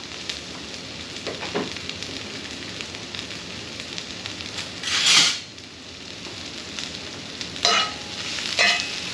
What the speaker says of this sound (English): And we're just gonna saute this lightly.